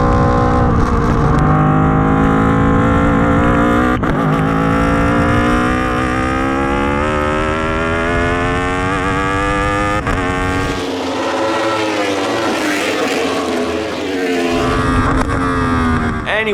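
Race cars in a wet auto race drone steadily with loud, continuous high-pitched engine tones that rise and shift as they accelerate together, with no talking.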